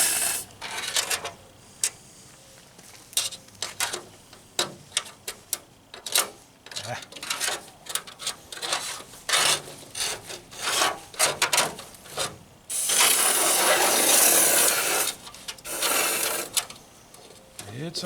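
Harsh bursts of abrasive spraying and hissing as a 1977 Camaro Z28 hood is sandblasted, stopping and starting irregularly, with a long continuous blast near the end; people talk between bursts.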